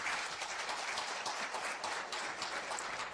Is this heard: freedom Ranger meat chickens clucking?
no